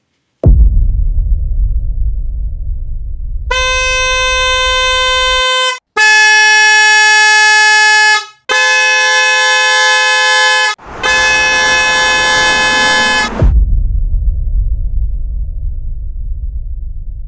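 Four long, loud blasts from a Hella electric car horn, each a bright twin-tone honk with short gaps between them, framed by a low humming rumble.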